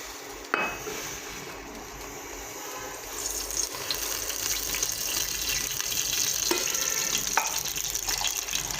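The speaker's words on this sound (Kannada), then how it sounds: "ಇವಾಗ ಇದರಲ್ಲಿ ಆಯಿಲ್ ಹಾಕೋಣ." Cooking oil runs into a pan for cabbage palya, a soft, steady liquid gush that builds after a brief clink near the start, with a couple of small knocks, continuous and close, no voices.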